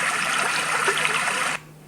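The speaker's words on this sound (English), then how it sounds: "A stream." Steady stream-water setting on a Hatch Baby Rest sound machine: an even, rushing wash of flowing water that plays alone at moderate loudness, then cuts off abruptly near the end.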